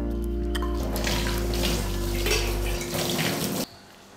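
Tap water gushes into a sink while dishes are washed at home, a loud steady splash that shifts as the flow changes and then cuts off near the end.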